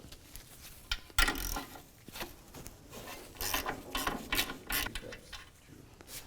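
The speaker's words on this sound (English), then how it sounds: "we're going to grab a 17mm socket and take off this top bolt" A ratchet with a 17mm socket loosens the top bolt of a front outer tie rod on a 2007-2013 Mitsubishi Outlander, giving irregular close clicking bursts at a quiet level.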